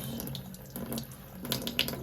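Water runs steadily from an ordinary hose, filling a container for a pH test in Denmark, with a constant close hiss and splash and no voices.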